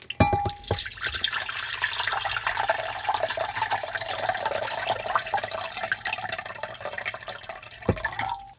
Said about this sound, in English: Now I'll carefully dump the water from the jar back into this mixing container.